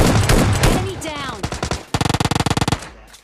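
Video game gunfire in a shooting game: a steady automatic burst of evenly spaced shots follows scattered single shots, with someone talking over the first part.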